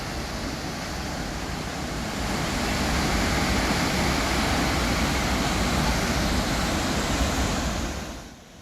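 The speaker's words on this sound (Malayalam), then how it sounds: "അതിരപ്പള്ളി വെള്ളച്ചാട്ടത്തിൻ്റെ കാതടപ്പിക്കുന്ന ശബ്ദം, ഭയാനകമായ ശബ്ദം" The Athirappilly waterfall roars in a dense, unbroken wash of falling water, loud and close, swelling slightly midway and then dropping off near the end.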